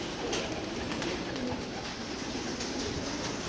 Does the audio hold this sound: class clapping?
no